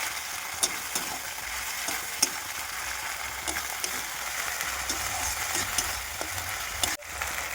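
Raw tomatoes stirred into a pan of frying pomfret in mustard-poppy seed curry, with a steady sizzle and scraping spoon strokes throughout, a few sharper clicks, and a brief dropout near the end.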